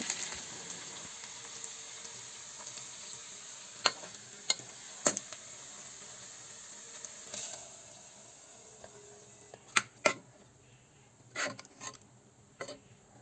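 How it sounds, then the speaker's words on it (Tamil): Mustard seeds, curry leaves, shallots and dried chillies sautéing for a tempering, a faint steady sizzle with a few sharp spoon scrapes and clinks against the pan, no voices. "இதுக்கு தாளிப்பு கடுகு கருவேப்பிலை சின்ன வெங்காயம் காஞ்ச மிளகா எல்லாத்தையும் சேர்த்து வதக்கிட்டு"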